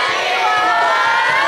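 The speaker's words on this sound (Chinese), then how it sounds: "热情的掌声加上鼓励加上尖叫声" A live crowd at an outdoor stage event at a Taichung street market cheers and screams continuously, a dense, loud wash of voices with no pauses.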